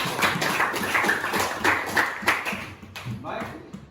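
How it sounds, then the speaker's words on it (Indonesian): Schoolchildren in a classroom clap in a patterned rhythm, a lively burst of hand claps that thins out toward the end, with voices mixed in among the clapping. "Tepuk tangan untuk kelas ini."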